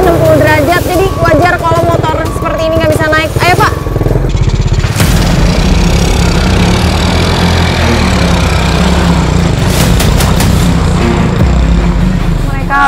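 A motorcycle engine labours up a steep 60-degree sandy, damaged slope, revving and sputtering unevenly at close range, with people talking loudly over it.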